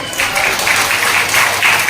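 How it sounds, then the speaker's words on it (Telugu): A church congregation of men clapping together, a dense, loud burst of applause close around, steady for about two seconds. "పురుషుల వరకు చప్పట్లు కొట్టండి."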